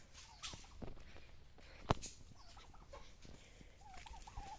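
Turkeys gobbling and clucking in short bursts at moderate distance, with a sharp click partway through and a low outdoor rumble underneath.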